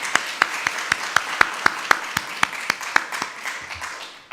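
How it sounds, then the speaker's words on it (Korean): A church congregation claps in unison to a steady, even beat: about fifteen crisp claps close together in a regular rhythm that fades toward the end. "우리 참 이런 사람에게 박수를 한번 보내줬으면 좋겠어요"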